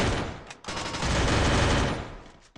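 Video game gunfire crackles in a dense burst of rapid shots, close and loud, with a brief gap before a second sustained volley that fades out at the end.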